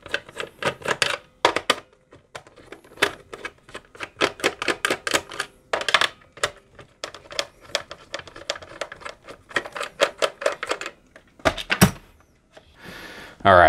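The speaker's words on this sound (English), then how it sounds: "go ahead and take out the 4 screws that secure the 2 halves together" Small screws being backed out of the plastic case halves of a FrSky X9 Lite radio transmitter, heard up close as a long run of dry clicks, ticks and scraping rasps in uneven bursts, with brief pauses and no talking.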